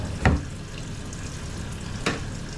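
Sliced onions sautéing in a pan, a steady sizzling hiss throughout with two brief louder scrapes of stirring near the start and near the end.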